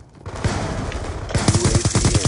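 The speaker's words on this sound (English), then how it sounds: "I'm getting shot from over here" Rapid bursts of gunfire in Call of Duty Black Ops 2, a loud rattling run of close shots that turns into a dense, rhythmic volley in the second half, with no talk over it.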